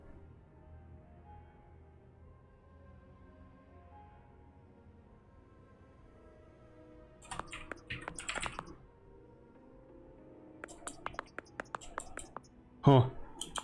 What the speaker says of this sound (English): Typing sounds interesting.